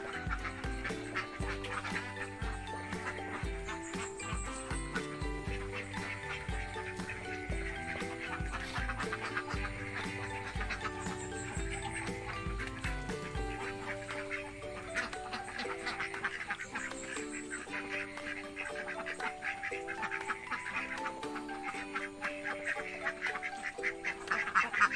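Ducks on an egg farm quack under a steady layer of background music that runs throughout, the calls mixed in at moderate level rather than standing alone.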